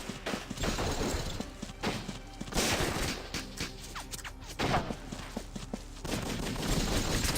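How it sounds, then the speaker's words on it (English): Rapid gunfire from a Valkyria Chronicles battle crackles steadily in the background throughout, with dense bursts of overlapping shots and brief lulls, moderately loud and with no talking. "that background shooting is kind of annoying"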